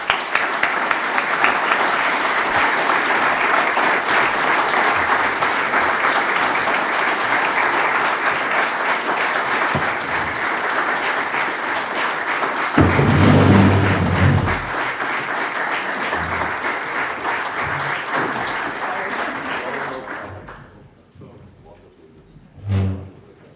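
Sustained loud applause fills a large hall at a European political forum in Vienna after a closing speech, holding steady for about twenty seconds before tapering off into quieter room noise.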